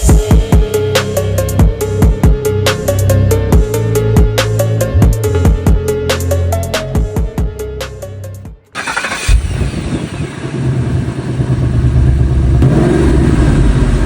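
A new car's engine runs with a dense, rapid mechanical clatter, briefly dips, then surges into a loud, sustained rev with a raised steady roar, close and alone without talk.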